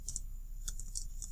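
Rapid keystrokes on a computer keyboard while coding, a steady stream of light clicks with a few sharper taps, close to the microphone and with no voices.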